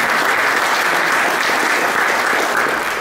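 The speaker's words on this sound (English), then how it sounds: "Yeah, we can clap for that" Dense, continuous clapping from a church congregation at a Sunday service, loud and even for the whole stretch with no talk over it.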